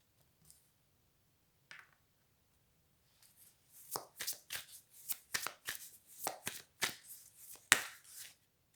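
Tarot cards being shuffled and handled: a few faint flicks at first, then a close run of crisp riffling, shuffling bursts.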